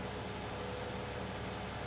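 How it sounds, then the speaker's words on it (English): An airplane flies overhead in Farming Simulator 19, heard as a steady broad engine roar through the whole moment with no talking. "Hear the airplane."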